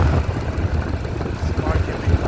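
A 2016 Chevy Trax engine with a misfire and a coil sparking runs at idle close by, a low uneven throbbing rumble that holds steady throughout with slight irregular pulses.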